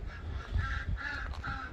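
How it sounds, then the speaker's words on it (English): A pet duck called Dilky quacks in a few short, nasal calls outdoors in a windy driveway, with wind rumbling low underneath. "can hear Dilky the duck"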